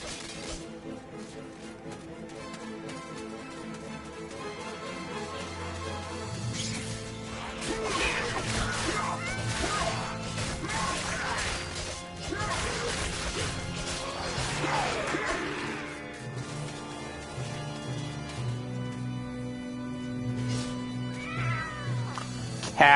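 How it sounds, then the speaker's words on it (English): Cats in a spooky top-down video game meow and caterwaul over a busy game soundtrack, several overlapping cries swelling through the middle and recurring toward the end amid occasional crashes. "There are cats all along that path."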